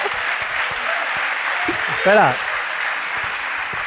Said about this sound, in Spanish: Pero ¿por qué aplauden, tío?